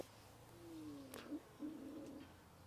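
A pigeon cooing softly in a quiet early-morning Times Square, New York, a drawn-out low coo followed by a second warbling phrase over faint city hum.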